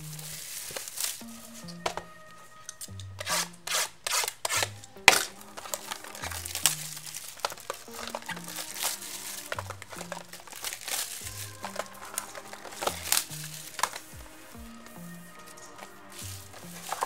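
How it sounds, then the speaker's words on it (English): A 2018 Topps Museum Collection trading card box being cut open and unwrapped: close crinkling of plastic wrap and cardboard with sharp cracks and scrapes in irregular bursts, while low tonal notes play in the background. "Might as well just cut the top now."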